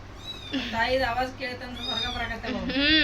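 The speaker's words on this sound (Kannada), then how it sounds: "ಬೆಕ್ಕಿನ ಮರಿ ಅಂತೂ ಭಾಳ ಓಡಾಡ ಆಗ್ತಾವ ನೋಡಲ್ಲಿ" A kitten mews repeatedly in high, wavering cries, close by, with a few short pauses between calls.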